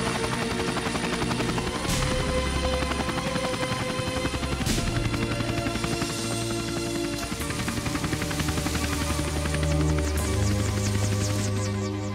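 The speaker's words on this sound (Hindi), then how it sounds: "जरा बाहर जाकर देखो, हेलीकॉप्टर लैंड हो चुका होगा।" Helicopter landing in an Indian film scene, a loud continuous rotor throb with engine whine holding steady throughout, close and dominant with no speech.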